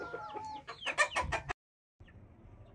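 Hen clucking and squawking outside, several loud, clipped calls bunched together, then a sudden cut to silence and quiet background.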